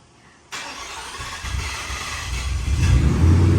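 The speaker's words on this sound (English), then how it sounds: "maybe 1 in 7 startups has like this extended cranking sound" A Ford Raptor R pickup truck goes through an extended cranking startup, with a whirring starter that builds into a rising engine rumble over several seconds, close and fairly loud, with no talking.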